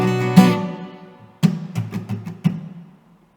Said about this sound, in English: I'm going to be playing these chord hits that the bands all play together.